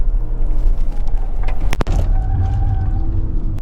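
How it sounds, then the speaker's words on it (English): An Acura MDX Type S SUV driving through corners, heard as a steady, loud engine and road drone from inside the vehicle, with a brief sharp knock partway through. "That was a good, responsive SUV going through those corners."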